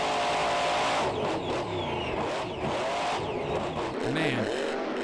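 A monster truck engine roars at full throttle during a Monster Jam run in the Carrier Dome, Syracuse, loud and continuous with surging revs, under a commentator's voice and crowd noise.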